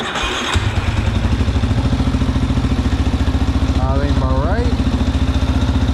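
A Yamaha Warrior 350 four-wheeler's engine, freshly tuned at the carburetor with the air box refitted, fires up and settles into a steady, loud, throbbing idle with a rapid even pulse, a few throttle blips rising near the end.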